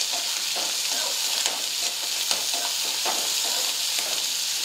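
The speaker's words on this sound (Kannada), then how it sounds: "ಉಳ್ಳಾಗಡ್ಡೆ ಫ್ರೈ ಆಗ್ಬೇಕು." Onion and curry leaves fry in a pan for onion paratha, giving a steady close sizzle with scattered crackles and the scrape of stirring throughout, no one speaking.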